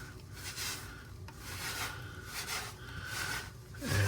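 A sponge rubs premix grout across subway tiles, giving a soft, steady scrubbing and wiping texture in repeated close strokes with no talking.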